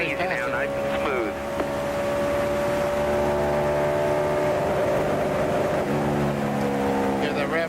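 A NASCAR Winston Cup race car at Pocono Raceway screams past with a high engine whine that sweeps and stutters against the rev limiter, under a commentator's voice.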